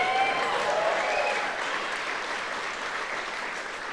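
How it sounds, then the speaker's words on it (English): An audience at a tech conference keynote applauds in a dense, steady burst of clapping that carries through the whole stretch and fades slightly toward the end, with no talking over it. "this is where you're supposed to clap and get them all started"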